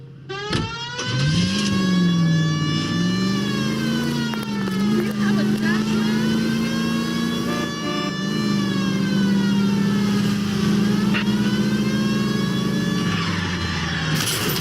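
Car engine in L.A. Noire, a steady mid-pitched drone that revs and rises after a brief start, holding loud and continuous throughout with a voice talking over it.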